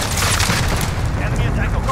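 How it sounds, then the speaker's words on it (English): Rapid cluster strike explosions in Call of Duty Modern Warfare Ground War, a dense, loud barrage of overlapping booms and blasts rumbling continuously through the whole moment. "Enemy cluster strike. Take cover."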